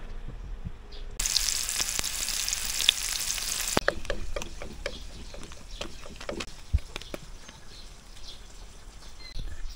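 Egg omelette with tomato and onion frying in a pan at a beach cabin on Polillo Island, a soft sizzle with a burst of hissing early on, then scattered taps and scrapes of a utensil, quiet and close.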